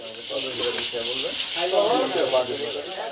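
Puffed rice (muri) is hand-roasted the traditional way in Tangail, making a continuous bright hiss and sizzle, and a voice speaks over it throughout.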